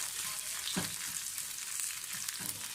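Minced meat frying with onion in a pan, a dense continuous sizzle up close with a couple of low scraping stirs, no voices.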